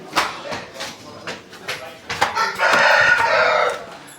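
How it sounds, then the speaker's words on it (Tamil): A rooster crows near a busy fish market, a loud drawn-out call rising over brief clucks and scattered background chatter and noise. "சேவல் கூவுது"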